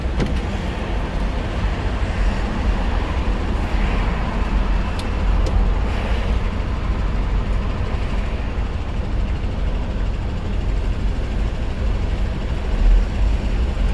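A car pulls away at the start of a road driving test, a steady engine and road rumble heard from inside the cabin, continuous and moderately loud with no clear change.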